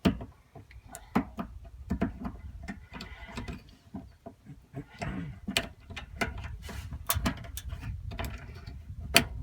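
Plastic bumper fascia clips on a Subaru Crosstrek popping loose during removal, a series of sharp, close clicks and snaps in irregular rhythm over faint handling noise, with no talk.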